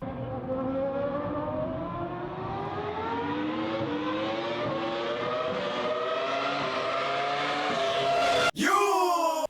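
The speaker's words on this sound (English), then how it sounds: "and what F1 cars sound like." 1999-era Formula 1 race cars screaming at high revs, a loud continuous engine whine climbing steadily in pitch with a brief cut and gear change near the end.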